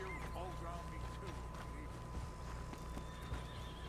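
A horse in Red Dead Redemption 2, in the town of Valentine, neighs and whinnies near the start over steady clip-clop hooves and other game ambience, with someone talking throughout.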